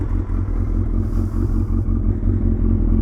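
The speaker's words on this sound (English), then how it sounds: "voice, baritone exhaust note." A Suzuki Hayabusa motorcycle idles and revs with a deep, baritone exhaust note, close and steady throughout, with a rumbling low-end pulse and no talking.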